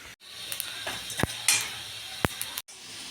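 Green cardamom, cloves, peppercorns and a piece of cinnamon dry roasting in a pan for Kolhapuri misal, with scattered scrapes, light rattles and a few sharp clicks of a utensil against the pan, close and fairly quiet.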